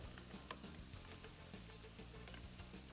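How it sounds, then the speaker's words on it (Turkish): Spicy meat noodle soup simmers and sizzles after red bell pepper is added and stirred in, with a continuous low bubbling hiss, a sharp tick near the start and soft scraping stirs. "Şimdi kapya biberi ilave ediyorum. Tekrar bir karıştırıyorum."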